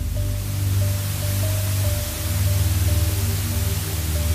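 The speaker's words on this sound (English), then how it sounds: "There was a loud, and I mean a loud static sound, like the kind you hear on the radio." Loud, steady radio-style static hiss fills the whole stretch without a break, with a low droning hum and a faint tonal line running beneath it. No voices are heard.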